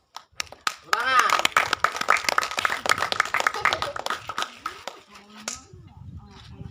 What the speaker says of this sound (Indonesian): Silakan duduk, beri aplaus. Tepuk tangan.